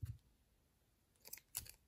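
Quiet scissor snips cutting yarn: one soft cut at the start, then two crisp snips close together near the end, with little else around them.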